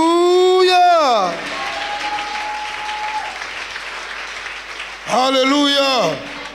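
A church congregation claps for God during a Sunday worship service, a broad wash of applause in the middle flanked by loud sustained voices crying out praise at the start and end.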